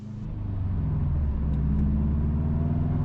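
A car drives west along the North Coastal Highway at Boscobel in St. Mary Parish, Jamaica. Its engine and tyres make a steady low rumble that swells slightly as it picks up speed, with no one talking.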